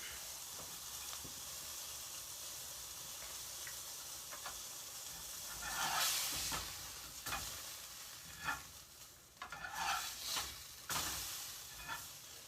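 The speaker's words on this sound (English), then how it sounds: "That burger patty's just about cooked up." A burger patty sizzles in a pan with steady frying hiss, broken by several louder bursts of spatter and scraping as it is stirred or moved, fairly quiet overall with no talk.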